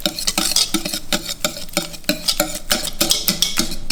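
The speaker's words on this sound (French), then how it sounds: "Et on va mélanger avec le fouet." A whisk beats sugar and vanilla sugar together in a bowl, producing rapid rhythmic metallic scraping and clinking strokes that repeat steadily and close, without voices.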